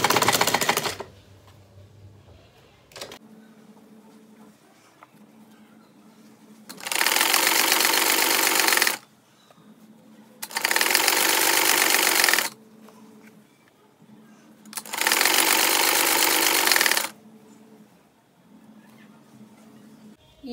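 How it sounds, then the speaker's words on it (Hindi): A sewing machine stitches the side seam of a legging in three loud, steady bursts of a few seconds each, close by, separated by quiet pauses with light handling noise. "एक बार दोबारा इस पर सिलाई करके इस पर यहाँ अच्छे से लॉक लगा लेंगे।"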